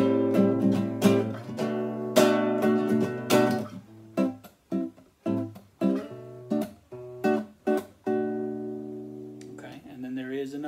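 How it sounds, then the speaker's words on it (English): A jazz minor seventh chord is strummed on a guitar, close and moderately loud, first in a few sustained strokes and then in a run of short, choppy rhythmic stabs separated by brief gaps. "It's a very powerful jazzy sounding chord."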